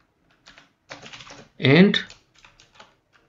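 Keys tapped on a computer keyboard while Python code is entered, a few soft, scattered clicks under a voice speaking.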